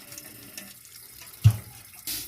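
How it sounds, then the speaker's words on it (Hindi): Water splashes and trickles while a clay pot used for heating water is washed, soft running water with one brief close splash near the middle and a louder pour at the end. "ये आज अम्मा ये घड़ा धो रही हैं, पानी वाला, जिसमें हम पानी गर्म करते हैं।"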